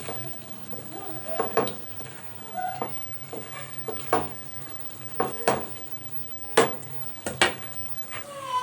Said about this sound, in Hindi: अच्छी तरह से मिक्स करेंगे और टमाटरों की और दही की सही से भुनाई करेंगे।